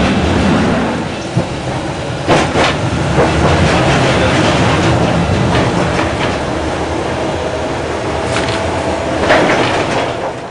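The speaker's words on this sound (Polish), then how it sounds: "Na ulicach miasta dominują wagony sprowadzone z Niemiec, choć wiekowe są bardzo dobrze utrzymane." Old, well-maintained German-made tram cars running along city streets in Gorzów, a loud steady rumble of wheels on rail with rhythmic clacking and squeals, close by and without talk.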